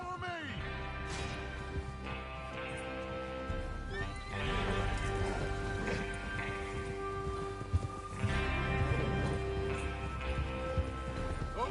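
Horses in Red Dead Redemption 2 snort and whinny repeatedly while hooves clip-clop and gallop close by, with soft rain in the background and game music underneath; a voice briefly talks.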